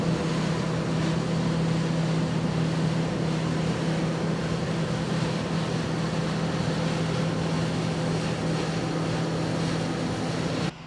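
Steady, loud droning whir of harvest farm machinery fills the scene without a break, a constant low hum with broadband rushing noise throughout.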